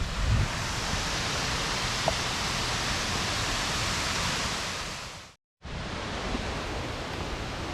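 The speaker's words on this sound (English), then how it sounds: "Here we go, Glencar Waterfall." Water crashes down at Glencar Waterfall in Ireland in a continuous, even roar heard nearby, broken only by a brief moment of silence.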